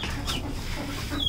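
Hens clucking nearby in a backyard coop where chicks are also kept, short soft clucks over a steady murmur of background noise.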